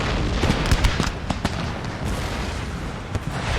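Cannon fire in the Empire: Total War strategy game, a dense battle din of repeated booms and cracks at mid distance over a constant rumbling roar, with no clear talk.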